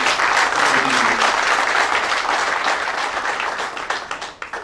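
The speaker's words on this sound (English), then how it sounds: "A big round of applause for them." A company party audience applauds at the Al Zahrani Group event: dense, steady clapping from a large crowd that holds strong, then thins and tapers off over the final second, with a faint voice briefly audible near the start.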